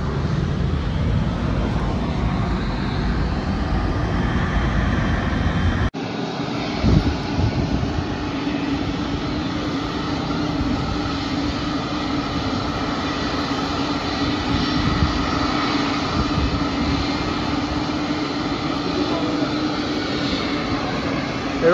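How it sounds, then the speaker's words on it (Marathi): An Air India passenger airplane passes near Mumbai airport, its jet engine a broad, continuous roar that holds steady across the clip with a brief thump partway through, no talk. "मंडळी आता ते हे जे एअर इंडियाचं प्लेन होतं ना त्या साईडला गेलेलं आहे."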